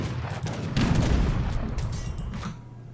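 A battle in Age of Empires III with dense volleys of musket fire and booming cannon shots, loud overlapping bursts that crackle for a few seconds and then thin out.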